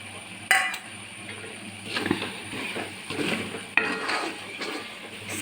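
Crushed chili frying in a pan for chicken kondattam, a soft sizzle with spoon stirring and scraping against the pan, a couple of sharp clanks, quiet and close.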